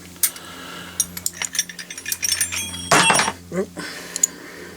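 Metal wrenches clink, rattle and clatter in a series of short irregular knocks while someone works on an old Hawk Cycles bike, with a brief louder jangle of tools near the middle.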